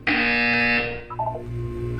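Portal 2 video game buzzer: a loud, harsh, steady electronic tone lasting under a second, then fading into softer tonal ambience.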